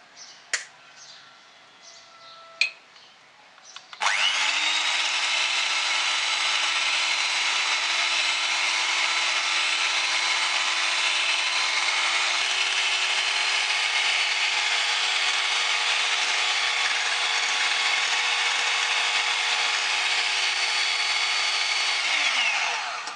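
Egg white whisked in a bowl for a white cotton sponge cake: a few light knocks, then an electric beater starts and whirs loud and steady for nearly twenty seconds, its pitch shifting slightly midway, with no talk.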